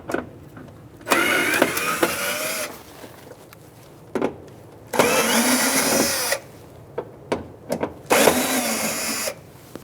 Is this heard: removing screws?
yes